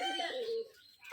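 Pigeons of good bloodline coo in a loft at a Rajshahi pigeon farm set in a disused space, one brief nearby call sliding downward before fading, with quiet room sound after.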